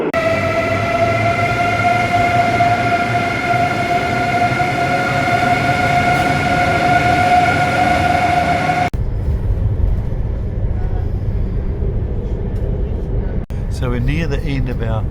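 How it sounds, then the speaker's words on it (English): A train between Frankfurt and Bamberg rolls along with a loud, steady rumble and whining tonal hum that cuts off abruptly partway, leaving a quieter low rumble with faint clatter. "So we're near the end of our train ride from Frankfurt to Bamberg"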